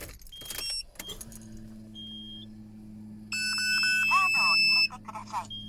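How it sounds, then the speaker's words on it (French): Keys jingle, then a Nissan Skyline R32 engine cranks and catches into a steady low idle, followed by a run of electronic dashboard chimes. "On va démarrer la voiture."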